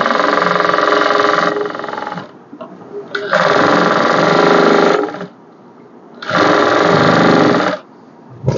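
A sewing machine stitches a blouse in three loud, steady bursts of close mechanical whirring, separated by short pauses with quieter handling sounds.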